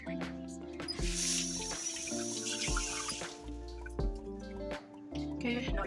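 Green pepper being washed under running water from a tap, with soft trickling and dripping, faint and close, beneath background music.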